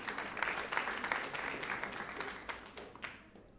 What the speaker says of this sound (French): Colline, on va applaudir Colline également.